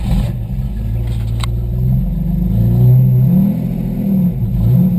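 A modified 1990 Isuzu Trooper engine, not yet warmed up, revs unevenly close by, rising and falling in a rough, steady drone with no talking.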